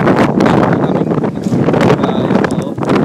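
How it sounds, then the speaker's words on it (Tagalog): Strong wind from a super typhoon in Japan roaring and buffeting the microphone, loud and continuous with gusty surges throughout. "Malakas ang hangin, sobra."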